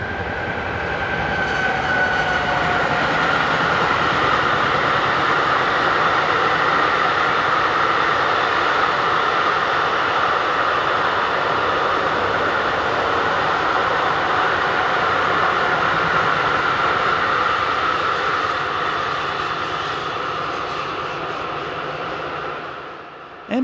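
Freight train of covered DB wagons from Stuttgart to Bremerhaven hauled by a class 152 locomotive on a German main line, passing near as a sustained loud rumble and rush of wheels that fades slightly at the end.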